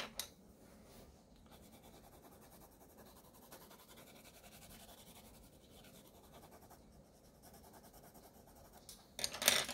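Pencil moves across an art journal page in soft, continuous scratchy strokes, faint and close, with a louder rustle near the end.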